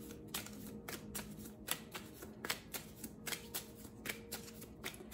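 An oracle card deck is shuffled to draw a card, making a fast, steady run of crisp card flicks and riffles at close range. The sound is soft and continuous, with no talking.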